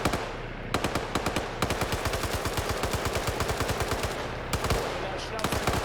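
Rapid bursts of AK rifle automatic fire in a competitive team shooter match, loud and close, with sharp shots rattling in quick, steady runs and a few brief pauses between volleys.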